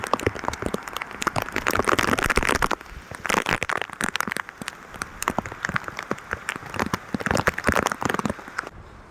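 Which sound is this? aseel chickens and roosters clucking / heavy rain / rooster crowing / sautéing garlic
heavy rain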